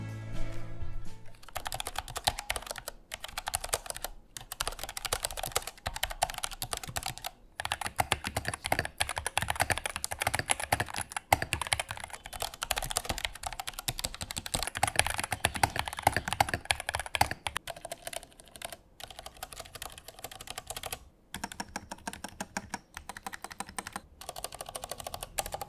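Typing on a low-profile switch keyboard, a fast, dense patter of close keystrokes with brief pauses, steady and fairly quiet, running alone for about twenty-five seconds.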